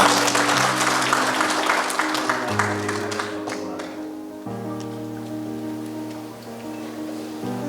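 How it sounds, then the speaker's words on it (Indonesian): Applause from a large audience at a religious affairs ministry programme launch in Papua, a dense steady wash of clapping that fades gradually, with sustained tonal hum underneath. "Saya ingin tepuk tangan untuk itu."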